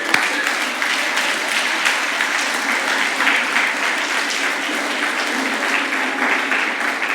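Congregation applauding in praise of God during a Spanish-language Bible sermon at church, a dense, steady wash of many hands clapping at full volume, with no talk over it.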